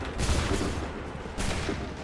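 Soldiers fire a musket volley in Assassin's Creed 3, a dense burst of shots that swells in two waves, loud and close, with no voices over it.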